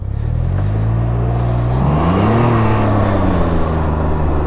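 A Can-Am Ryker idling a little low, with a steady close rumble and tones that rise and fall slightly as the engine hunts, no talking.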